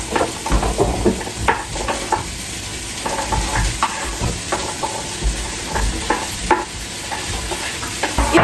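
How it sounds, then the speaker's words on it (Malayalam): Pumpkin pieces for soup are stirred and roasted in a hot pan, a continuous sizzle broken by repeated scraping strokes of a spoon at an uneven rhythm, close and fairly loud. "ഇതെല്ലാം ഒന്ന് റോസ്റ്റ് ആക്കി എടുക്കാവേ."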